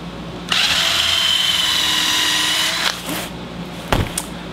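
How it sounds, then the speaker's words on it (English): A power drill bores a hole through wood for a hexagon mirror mount, whining steadily for about two seconds before winding down, followed by a few brief knocks and clatters. "You can go ahead and drill it now."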